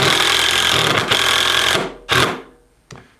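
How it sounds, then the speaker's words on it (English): A cordless impact driver whirs driving a screw, then its tone turns into a rapid rattling hammering as it meets resistance. A couple of short bursts follow before it stops. "that noise is actually an impact or a hammering action while it's turning"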